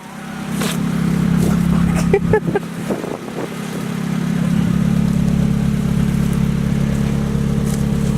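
A car engine idles steadily after an exhaust leak repair, with a low, throbbing hum that dips briefly and then settles back to a constant drone, with some clanks over it.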